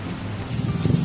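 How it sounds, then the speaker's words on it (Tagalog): Heavy typhoon rain from Typhoon Hanna pours down in a steady, dense hiss with wind, loud and continuous throughout, with no voices. "Grabe, super lakas ng ulan dito sa amin."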